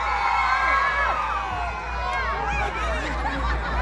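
An outdoor concert crowd at an autumn festival on a beetle farm in Zhongpu, Chiayi, shouts, whoops and cheers continuously, with excited voices and chatter mixed through the steady roar.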